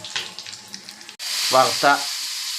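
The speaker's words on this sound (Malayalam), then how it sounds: "കടുക് വറുത്തത് നമ്മൾ നമ്മുടെ കറിയിലേക്ക് നമ്മൾ ഒഴിച്ചിട്ടുണ്ട്" Hot oil with fried mustard seeds sizzles loudly as it is poured into an okra curry, a sharp hiss that continues while a person talks briefly over it.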